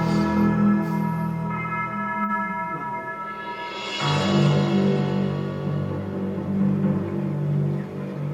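Monastery bell at an early Irish monastic settlement tolling, its long sustained tones ringing out and decaying, with a second stroke around the midpoint renewing the resonant hum.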